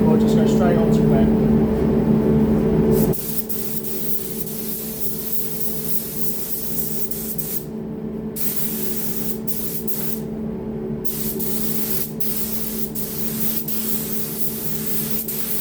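A spray gun lays a coat of BMW car paint onto a seal cover panel, a loud steady hiss running the whole time, with talk over its first few seconds before the spray carries on alone.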